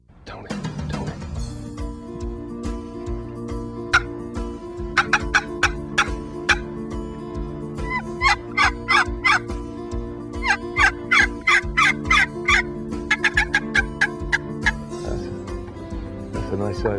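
A large wild turkey gobbles outdoors in the woods, with repeated loud rattling calls sounding in bursts near the microphone while people talk quietly.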